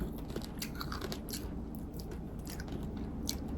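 Crispy fried pork skin, fried twice, crunched and chewed up close in a steady run of crisp bites, with no talking.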